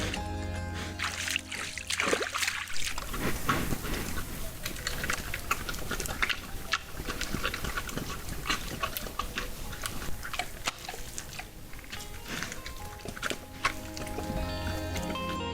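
A wild boar chomps loudly on food at a forest puddle, with a steady run of wet biting and chewing noises and some splashing that carries on close to the listener throughout.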